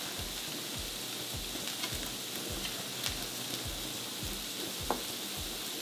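Pork cooking in a green pipian sauce sizzles and bubbles steadily, with soft rhythmic pops recurring about every third of a second and a few louder crackles, close and without talk.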